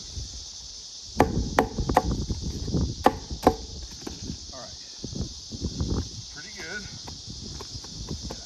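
Several sharp, close hammer taps tacking material on a mobile home roof during a Velux skylight install, spaced irregularly with quieter scraping and handling noises between them.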